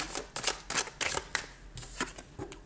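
Tarot cards being shuffled and laid out on a table, a close, quick series of papery riffles and soft slaps in an irregular rhythm, fairly quiet.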